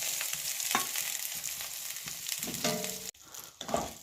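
Fried vegetables for shukto hit hot oil tempered with dried red chili, five-spice, ginger, cardamom and cloves, giving a close, steady sizzle broken by stirring scrapes and a brief drop before the frying noise surges back.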